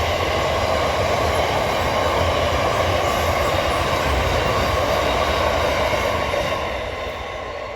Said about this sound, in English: I was waiting for the freight train to go by